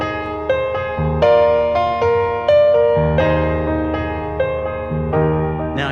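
Solo piano plays the groove of a well-known pop song, sustained chords broken into a slightly uneven dotted rhythm, steady and close with a warm ringing tone.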